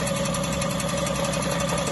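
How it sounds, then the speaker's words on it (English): A Motron Metalist moped engine idles steadily and close by, a continuous mid-pitched mechanical drone with a fine rapid vibration and no voices. "You were just watching the Motron Metalist idling."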